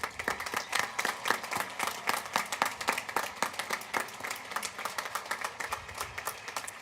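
At the W.F. West 2024 high school graduation, the audience claps for honor roll students standing to be recognized, a lively crowd ovation with distinct sharp claps in a quick, uneven rhythm that holds at moderate loudness throughout.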